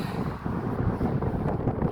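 Steady wind buffets the microphone on a motorbike ride at Hudayriyat Island Bridge, Abu Dhabi, with a low rumbling roar throughout, constant and close.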